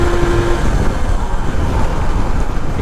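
A Honda CDI motorcycle on a highway, heard as a steady, close roar of engine and road noise with no clear rise in revs.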